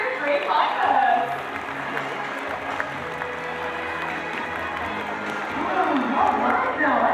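An audience applauds at the Australia Zoo bird show, a broad wash of clapping and crowd noise that swells at the start and end, steady and fairly loud.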